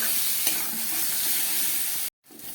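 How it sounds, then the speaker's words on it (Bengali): Masala with half spoons of cumin powder and chilli powder being stir-fried in a pan for a tangra fish curry, a steady close sizzle with light stirring scrapes, cut off briefly near the end before the sizzling returns. "এবার এটাকে আবার ভালো করে একটু কষাবো।"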